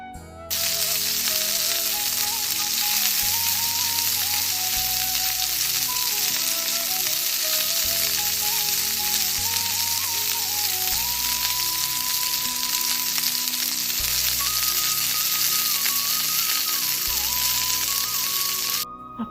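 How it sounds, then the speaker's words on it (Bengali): Chopped onions fry in a little soybean oil for a potato filling, giving a steady, close, even sizzle that runs the whole time under soft background music with no talking. "পেঁয়াজটাকে গোল্ডেন ব্রাউন করে ভেজে নেব।"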